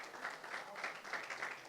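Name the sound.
applause for pitch curator at award ceremony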